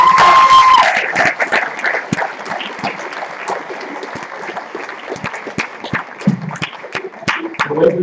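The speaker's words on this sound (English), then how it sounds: "How about a round of applause for all students who are recognized?" Audience applause and scattered cheering for students recognized at a senior awards ceremony at Samueli Academy, steady dense clapping from a large crowd throughout, with some voices mixed in.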